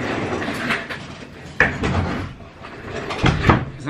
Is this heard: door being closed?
yes